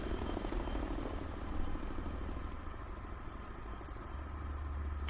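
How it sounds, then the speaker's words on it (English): A helicopter in the Ghost Recon Future Soldier video game makes a faint, steady low rotor rumble throughout, distant and unbroken. "Once this helicopter heads off from my left, just clean run."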